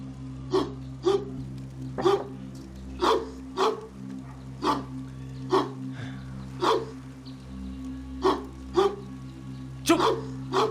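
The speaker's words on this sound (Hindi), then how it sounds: "तुझे भी यही वक्त मिला था भौंकने का" A dog barks repeatedly in single sharp yaps, about a dozen evenly spaced over a steady low hum, fairly close and loud, with no talking.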